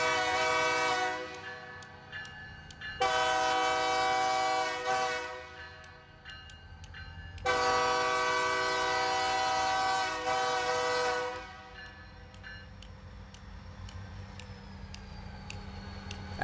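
Bigger Missouri & Northern Arkansas Railroad freight locomotives sound two long, loud horn blasts, one around three seconds and the other around four, over a steady low diesel rumble that carries on once the horn stops.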